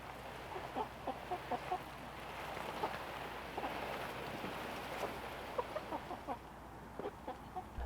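Chickens in a chicken tractor cluck in short, repeated bursts against steady outdoor background noise, moderately close, with no one talking.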